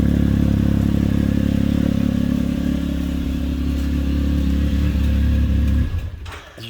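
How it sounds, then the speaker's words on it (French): A Can-Am Maverick X3 side-by-side idles with a steady, loud engine and exhaust drone for about six seconds, then the engine is switched off and the sound dies away into a brief clatter. "Je vais arrêter la machine pour ne pas avoir le bruit de fond du tube d'échappement."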